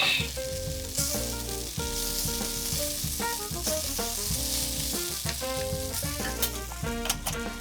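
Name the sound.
cabbage sizzling in a hot cast iron pan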